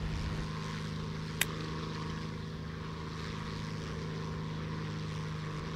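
A P-40 Kittyhawk propeller aircraft engine in a flight video game drones steadily and loudly throughout, with a single sharp click partway through and no talking.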